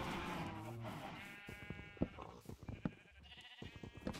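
Minecraft sheep bleating in a blocky game world, a wavering baa near the start followed by scattered short game thuds and noises, moderately loud with no talk.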